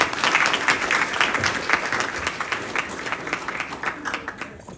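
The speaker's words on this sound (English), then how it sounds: "I would like everyone to please give a very hearty round of applause for Bhai Pandit Vyasji, Navinji, please." Audience applause for a Hindu pandit at a yagna ceremony, a dense sustained wash of many hands clapping close and loud, slowly thinning toward the end.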